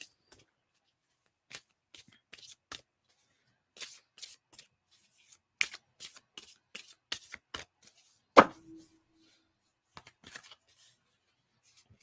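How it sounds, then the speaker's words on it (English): Tarot cards are shuffled by hand in a quiet room, with soft riffling bursts and flicks coming in irregular clusters, close and gentle, broken by a single sharper tap. "So let me pull some cards."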